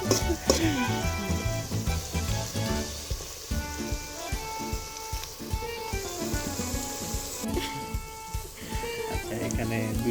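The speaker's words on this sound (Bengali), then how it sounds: "পেঁয়াজটা একটু ভাজা ভাজা ব্রাউন কালারের মতো" Onions frying in oil until browning for a Bengali duck curry, a steady crackling sizzle at moderate volume with occasional stirring scrapes and background music.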